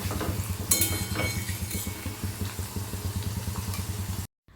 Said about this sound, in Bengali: আমি ভেজে নেব, যতক্ষণ না এই রসুনটা লালচে হয়ে যাচ্ছে ঠিক ততক্ষণ পর্যন্ত।